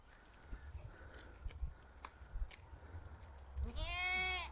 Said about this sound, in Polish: Ładne kozy.